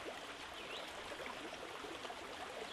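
A river stream flows over branches and roots in its bed, producing a soft, continuous trickling and bubbling hiss that stays fairly quiet and steady throughout.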